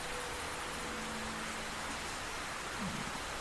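Steady rain in the video game Black Mirror III, an even hiss of falling drops with no other sound.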